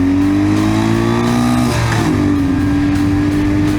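A stock 650 Ural motorcycle engine accelerates hard and loud, its rising drone climbing steadily, dropping briefly at a gear change and then pulling up again, with no voices.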